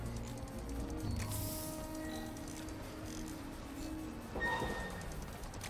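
Whirring mechanical hum of a small spider bot vacuuming up spilled chemical in the video game Spider-Man 2, steady and moderate with brief brighter electronic tones and a short rising swell near the end.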